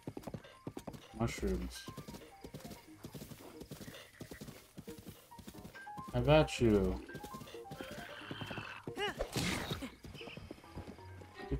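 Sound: horse hooves and neighing, video game

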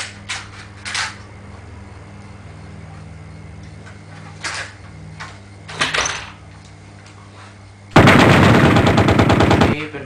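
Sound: BB gun shots during shooting demonstration

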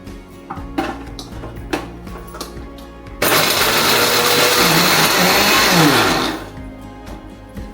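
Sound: mixer grinder grinding fresh coconut pieces

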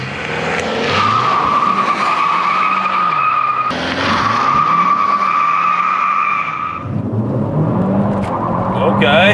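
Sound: Kia K5 GT 2.5 turbo doing a burnout, tires skidding

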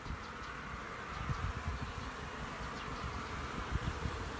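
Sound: honeybees buzzing at hive entrance

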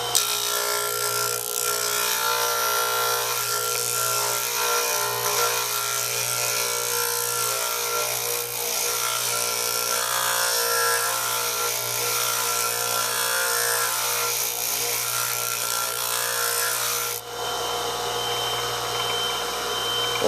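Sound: grinding wooden blocks along a square guide

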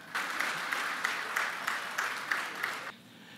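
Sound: audience applause

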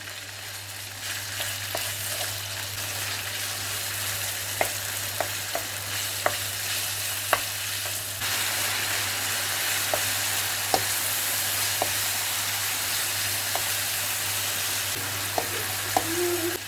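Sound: chicken pieces frying in hot oil

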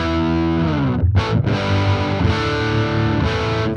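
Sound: electric guitar through Fender effects pedal, half stack sound

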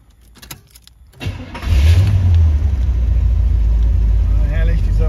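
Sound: Corvette C3 Stingray V8 engine starting

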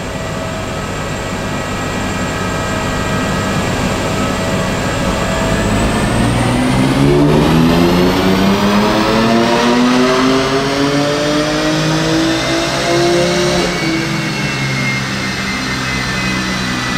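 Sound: tuned BMW M4 Competition engine revving

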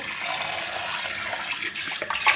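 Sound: filling a pot with water

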